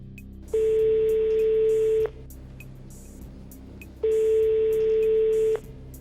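A telephone call being placed, with the ringback tone heard on the caller's end: two long, steady electronic rings, each about a second and a half, separated by a pause of roughly two seconds, clear and alone.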